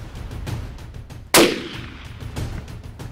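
A single sharp rifle shot cracks out near the middle, loud and close, during a hunting safari in Africa, standing out sharply against quiet outdoor background noise.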